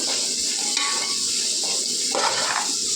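Ingredients for egg fried rice sizzle and fry in a pan, a steady close-up hiss with faint stirring clinks, and no talking.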